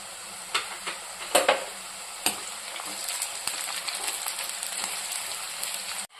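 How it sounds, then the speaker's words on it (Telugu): Onion and green chillies sizzle and fry steadily in a pan, with a few sharp clicks and stirring knocks near the start, heard up close with no talking. "ఆనియన్ అయితే ఫ్రై అవుతుందండి."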